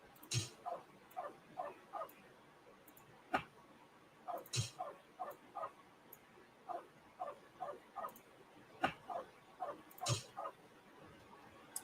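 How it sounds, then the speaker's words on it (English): A dog barks repeatedly in short bursts of yips, somewhat distant and faint, with sharp clicks and taps in between. "you can probably hear the dog barking"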